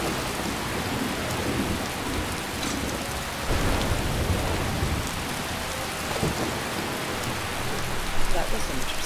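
Steady video game rain pours without a break, a dense hiss layered with low rumbling like distant thunder, the downpour swelling slightly midway and near the end.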